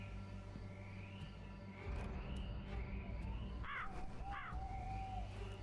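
A crow caws in the horror game Tales Beyond The Tomb: The Last Vigil, two harsh calls close together near the end, rising over a steady low ambient drone.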